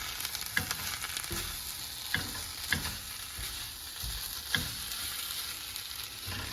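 Noodles stir-fry in a hot pan with a continuous loud sizzle, broken by several sharp scrapes and clatters as the food is stirred and spread out.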